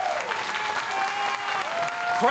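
A pro wrestling crowd in Houston cheers and applauds loudly and steadily throughout, a dense wash of clapping with a voice ringing out above it.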